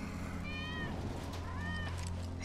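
Wedge's cat in Final Fantasy 7 Remake gives two clear, drawn-out meows, one after another, over a low steady hum.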